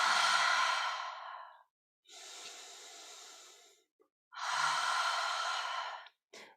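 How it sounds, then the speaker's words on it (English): Circular breathing during guided breathwork, in through the nose and out through the mouth: three long, close, airy breaths in a steady cycle, each lasting a second or two with short pauses between, and no talking. "circular breathing in and out, into the nose, out through the mouth"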